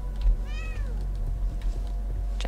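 A cat in the video game The Medium gives one clear, rising-and-falling meow up close over a low steady game hum, followed by a few faint soft noises.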